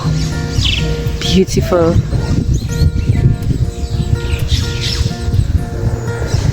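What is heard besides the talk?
birds singing, finches, tanagers and blackbirds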